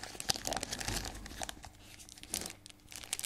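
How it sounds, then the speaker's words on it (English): A Dragons Exalted trading card booster pack wrapper is crinkled and torn open, giving close, irregular bursts of crisp plastic rustling and ripping. "It's so hard to open them up without ripping them."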